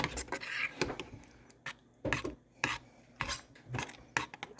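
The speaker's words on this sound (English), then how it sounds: "Rotel is in. Let's give this a stir." A spoon scrapes and stirs thick chili with Rotel in a pot, giving intermittent rasping strokes and soft clinks, fairly quiet and close with short pauses between motions.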